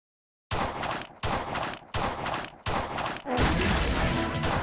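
Gunfire in the top-down shooter Crimsonland comes as four loud, evenly spaced bursts of rapid shots, then a continuous heavier barrage, close and with no talk.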